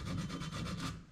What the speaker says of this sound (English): I might just give it a little bit of a block sand,